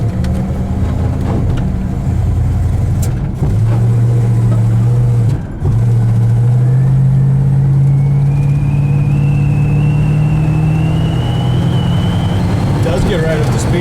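A 1967 Plymouth Satellite accelerating down the road, its engine droning loudly from inside the cabin with rising pitch across gear changes and a brief dip mid-run, while people talk over it.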